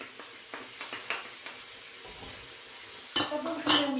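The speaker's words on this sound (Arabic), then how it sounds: "دابا نخليهم يتقلاو" Chopped onion and garlic sizzling in a pan for a Moroccan chicken tagine, with a spoon stirring and scraping at a steady rhythm, quiet and close, ending in a few louder clinks against the pan.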